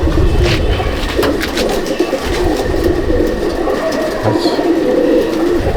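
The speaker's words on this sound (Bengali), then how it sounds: "এটা গ্যাডা রামপুরি বা চন্দ্রকানী রামপুরি পেয়ার।" Rampuri pigeons coo steadily in a loft at Laxmikantapur, their low, throaty calls close and continuous over a busy background of other birds, with no talking.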